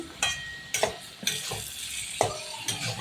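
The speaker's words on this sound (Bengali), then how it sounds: "এবার আমি চিংড়ি মাছটা দিয়ে দেবো ভেজে রাখা। এটা নেড়ে চেড়ে আমি" Already-fried prawns are stirred into a sizzling pan for a prawn and taro-stem dish, with a steady frying hiss broken by several scraping spatula strokes against the metal.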